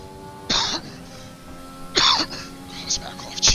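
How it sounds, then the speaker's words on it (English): A man coughs and clears his throat twice in a harsh burst, close to the mic, against a quiet hum of F1 2020 racing game audio. "my cough's bad today"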